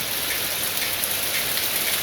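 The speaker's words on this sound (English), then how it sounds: "it's raining" Steady, dense rain falls and patters on surfaces, a constant even hiss with no pauses or voices.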